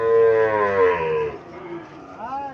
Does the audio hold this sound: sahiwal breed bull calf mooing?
yes